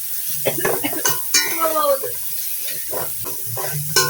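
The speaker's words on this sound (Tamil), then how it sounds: "ஓகே சோயா மீட்டையும் போட்டு வழியா வதக்குவோம்." Soya meat chunks stir-fried in a pan for breakfast noodles, with a steady sizzle under repeated scraping and stirring clinks of a spatula against the pan, close and moderately loud.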